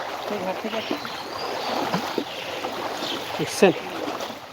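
Floodwater streams along a flooded village road as a steady rushing wash, with voices talking over it and a short louder splash near the end.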